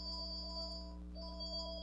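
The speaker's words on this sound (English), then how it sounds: "sorry for the phone have to ring in that moment." A phone ringtone rings steadily in a room as a sustained electronic melody of layered tones, fairly quiet and alone with no talking, during a Blender work session.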